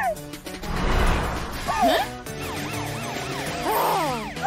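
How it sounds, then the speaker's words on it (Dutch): A cartoon police car siren wails in rising and falling sweeps over a busy background of music and other effects in a children's animated truck show, fairly loud throughout. "Mathilda's sirene zorgt ervoor dat de auto's voor haar aan de kant gaan."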